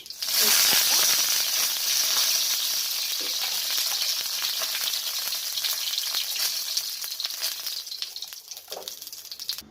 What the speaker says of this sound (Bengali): এখন গরম হয়ে গেছে একটু জিরে দিলাম তারপরে ছোট একটা শুকনো লঙ্কা দিলাম